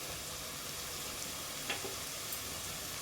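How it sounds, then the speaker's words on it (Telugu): Ginger garlic paste and spices frying in oil for a Telugu fish curry (bontha chepala pulusu), a faint, steady hiss of sizzling with a single soft crackle partway through. "అల్లం వెల్లుల్లి పేస్ట్ పచ్చివాసన పోయేంత వరకు వేయించుకోవాలి."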